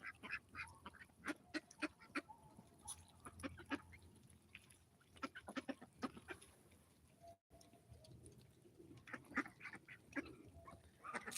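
Mallard ducks quacking repeatedly in short bursts, several birds calling over each other at a moderate distance, with a brief quiet gap midway.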